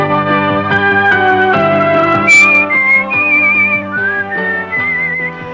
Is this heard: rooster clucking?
no